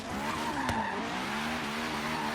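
A candy purple Honda S2000 drift build squeals its tires through a slide in Forza Horizon 3, a continuous wavering screech over engine drone with one sharp tick partway through.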